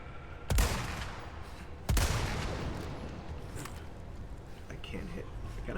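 Gunfire from a player shooting at targets in a video game: two sharp, loud shots about a second and a half apart, each trailing off into a long noisy decay, with game sounds continuing underneath.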